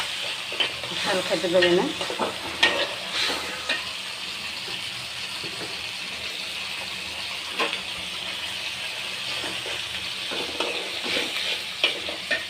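Green chilies fry in a pan of oil with a continuous hissing sizzle and intermittent utensil scrapes, while a voice speaks briefly near the start.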